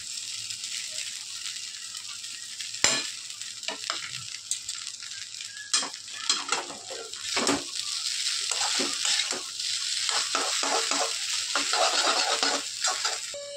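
Egg chicken Hakka noodles stir-fried in a pan: a steady close sizzle with repeated scraping and clattering strokes of a utensil against the pan, alone without talk.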